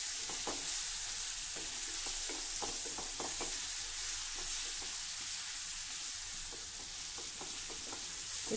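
Red chilli and coriander powder sautéed in oil sizzle softly in a pan, with scattered light clicks and scrapes of stirring throughout and no talking.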